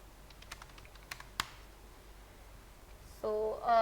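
Keyboard shortcuts tapped on a computer keyboard while writing an actuarial equation, a few sparse, faint clicks at uneven intervals, then a brief tonal electronic sound near the end.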